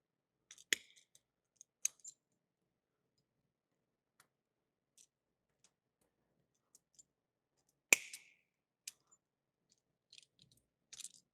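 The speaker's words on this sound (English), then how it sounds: "I always like to make sure I trim up my stems." Scissors trimming eucalyptus and fern stems for a wreath give scattered sharp snips and clicks, quiet and close, with a louder cut near the middle and long silent gaps between them.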